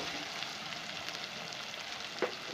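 Ginger garlic paste frying in a pan gives a steady, dense sizzle up close, with one small pop near the end and no talking.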